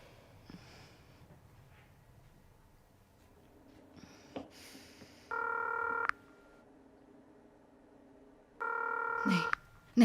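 A telephone is dialed in a dubbed horror film scene, with two sustained keypad tones a few seconds apart over faint room noise, brief soft sounds in between and a sharp click at the end.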